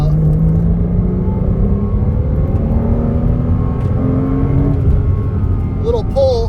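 A 2008 Porsche Cayman 2.7 engine hums and pulls steadily, its pitch climbing gradually as it accelerates, with road rumble throughout and a brief higher whine near the end.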